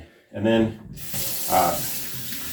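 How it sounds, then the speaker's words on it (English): Fairly hot water starts running from a tap into an apartment kitchen sink to rinse sea salt off a cast iron pan, a steady broadband rush that follows a brief spoken phrase. "I'm going to take some fairly hot water"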